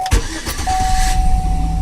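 A 2006 Chevy Suburban with the 5.3L V8 cranks briefly and catches, settling into a steady close idle with a thin whine running through it, alone without voices.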